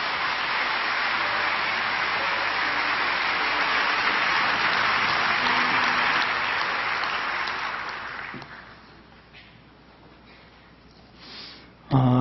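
A church congregation claps to welcome a visiting pastor at a New Year dawn prayer service, dense sustained applause for about eight seconds that then fades, with a voice starting near the end.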